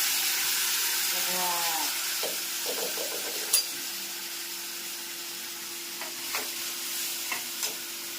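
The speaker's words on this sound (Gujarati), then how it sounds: "અને અહીંયા ટીંડોરાનો વઘાર." Ivy gourd (tindora) tempering in hot oil with curry leaves and fenugreek powder, a soft steady sizzle with occasional light clinks and stirring taps, faint and close, while a person speaks.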